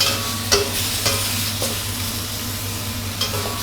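Shiitake mushrooms and shrimp are stir-fried over high heat, a loud continuous sizzle broken by a few sharp spatula scrapes and taps against the pan, close up with no speech.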